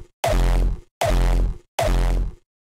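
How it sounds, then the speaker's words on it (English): A compressed kick drum with an extra click layer strikes three times in a steady rhythm, each hit loud and punchy with a sharp attack over a deep, sustained low body, with no other sounds. "And then if we add that compression and the extra layer, it's already going to sound a lot more tight."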